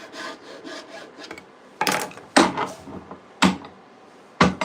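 A file sharpens the teeth of a handsaw held in a vise: loud, close rasping strokes, first soft and quick, then several sharp separate scrapes at an uneven pace.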